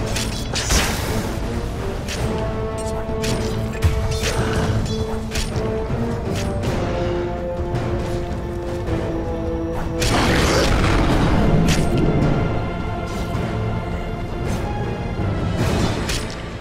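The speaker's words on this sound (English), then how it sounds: "Radiant's middle tower is under attack." A Dota 2 match with a middle tower under attack plays as a dense, loud, continuous wash of in-game booms, crashes and mechanical clatter, with a heavier burst of impacts partway through.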